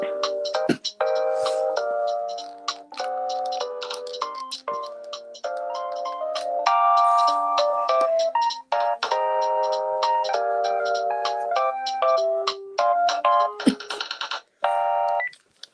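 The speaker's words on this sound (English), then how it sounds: "so here is this ringtone that I like. And this phone is my only phone that has it," A phone ringtone plays on a radio show: a busy melodic sequence of bright electronic tones and chimes that repeats its phrases for about fifteen seconds, clear and fairly loud, with no talking over it.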